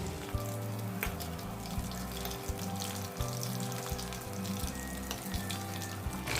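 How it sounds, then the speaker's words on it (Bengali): Coated chicken pieces frying gently in oil over medium heat, a steady close sizzle and crackle with a faint repeating low tone underneath. "আর মিডিয়াম হিটে আস্তে আস্তে চিকেনগুলোকে ফ্রাই করে নেব।"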